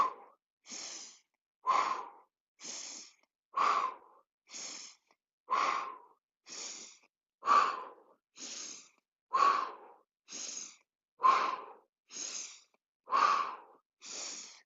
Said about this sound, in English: Big sniff, big exhale out through your mouth.